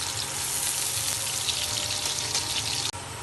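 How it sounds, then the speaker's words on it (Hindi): Onions frying and browning in a pan for gravy, giving a continuous broad sizzle at moderate level with a brief dip near the end; no talking. "ये प्याज ब्राउन होने देंगे"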